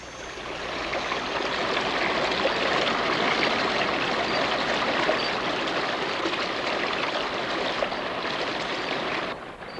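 A rainforest stream flows steadily with a dense, even rush of water that holds at a constant level for nearly ten seconds before cutting off abruptly, with no voices present.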